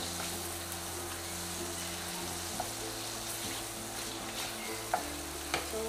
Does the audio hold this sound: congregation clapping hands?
no